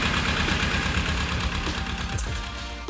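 A small Lister engine idles steadily with a fast, even chugging pulse, close and continuous, with a faint knock near the end.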